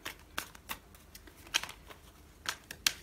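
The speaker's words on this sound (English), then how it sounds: "So I'm gonna shuffle the cards again." Tarot cards being shuffled by hand, a series of close, crisp riffling snaps and soft slides spaced irregularly, with no voices over them.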